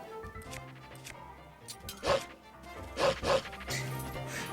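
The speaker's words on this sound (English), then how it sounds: "You're just gonna bark at them." Wolf Link from Zelda Breath of the Wild giving several short barks and yips in quick bursts, moderately loud, with quieter game sounds between them.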